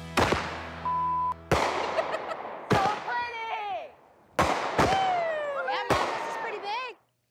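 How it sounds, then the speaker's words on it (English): Fireworks go off outdoors in a series of sharp bangs and crackling bursts, some with whistling tails, several seconds apart, fairly loud and close. "now it is time to head outside and shoot some fireworks"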